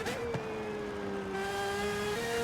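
Aston Martin engine in the racing game Forza Horizon 5, a sustained tonal engine whine holding nearly steady pitch with a brief gear-change blip near the start, moderately quiet and alone.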